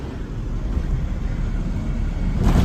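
Large vehicles pass on the Samruddhi expressway, heard as a steady, heavy low rumble of traffic that grows a little louder toward the end.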